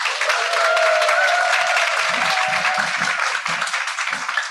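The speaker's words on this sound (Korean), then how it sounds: "큰 박수로 모시겠습니다." An audience at a business presentation claps to welcome a speaker, a dense sustained applause that stays loud and gradually thins toward the end.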